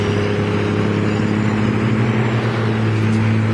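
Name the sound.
road traffic passing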